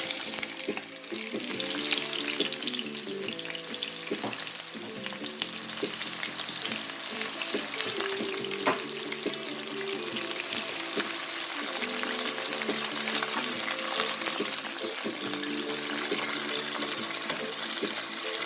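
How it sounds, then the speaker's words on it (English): Onions sizzle and fry steadily in a hot pan for a spicy Jamaican butter pork stew, a continuous close crackle with occasional stirring scrapes and music running underneath throughout. "Fry this all up."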